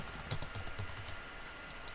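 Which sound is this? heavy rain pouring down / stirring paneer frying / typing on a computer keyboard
typing on a computer keyboard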